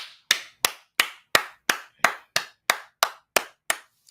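A single person clapping at a steady slow beat during a spiritual class, about eleven sharp, close, evenly spaced claps with brief ringing decay between them.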